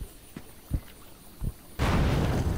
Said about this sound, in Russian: оно взрывается в воде